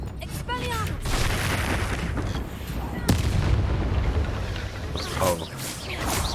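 The Expelliarmus spell cast in the video game Hogwarts Legacy, a loud blast layered over dense, rumbling battle noise, with a sharp burst near the middle and swirling effects around it.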